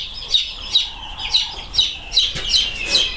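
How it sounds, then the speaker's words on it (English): Young Barred Rock chicks in a garage brooder give a run of about eight high, thin cheeps at a steady rhythm. The calls are close and moderately loud over a quiet background. "we got the barred rock chicks moved out of the house"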